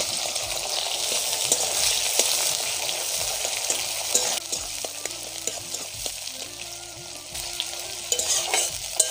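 Onions sizzle steadily in hot oil with dried red chili and cumin tempering for a Bengali jackfruit curry, a dense broadband frying hiss with scattered clinks and scrapes of stirring throughout, close and fairly loud, no talk.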